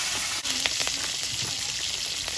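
Green chilies and nigella seeds frying in mustard oil in a kadai, giving a steady close sizzle with a few faint crackles and no talk.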